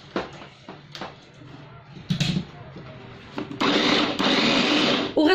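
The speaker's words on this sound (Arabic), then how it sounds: "دابا غادي نطحن هذا الشيء مزيان في هذه الاله حتى يتخلط لنا كل شيء مزيان" An electric grinder blends a food mixture for chicken stuffed with Chinese vermicelli, with short bursts of rattling before the motor settles into a loud, steady whir that runs to the end.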